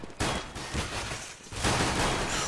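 Rapid gunfire from a Counter-Strike esports match, dense overlapping shots in bursts that fill the mix, loud and continuous with a brief lull in the middle.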